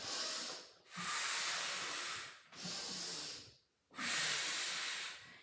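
Audible breaths during a Pilates reformer class: three long, hissing breaths close to the microphone, each separated by a short pause, with no speech.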